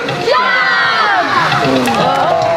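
Crowd at a tiger show cheering and whooping loudly, many voices rising together in a sustained, close roar with some shouts standing out.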